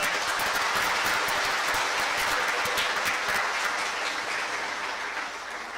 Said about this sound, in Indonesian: Kita tepuk tangan semua.